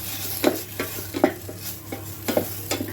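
Egg bhurji frying in an electric kettle, a steady sizzle broken by rhythmic scraping of a spoon stirring and knocking against the pot every half second or so, close and clear with no talk.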